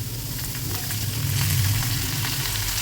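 Spinach goes into a pan of frying lentils for an Assamese mung dal and spinach dish, giving a steady, close sizzle that holds for the whole stretch with no talking.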